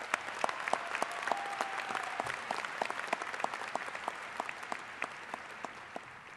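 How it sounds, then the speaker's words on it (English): Applause at a high school graduation ceremony, a crowd clapping steadily and fairly distantly, with a few sharper individual claps standing out and a faint whistle partway through, tapering slightly toward the end. "give a round of applause to all your families and that have given you support and love throughout the years."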